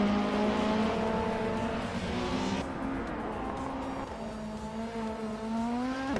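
Race cars in a racing video game, including a 1991 Vauxhall Cavalier, a steady droning engine tone that shifts pitch as it revs and eases, continuous and moderately loud with no talking.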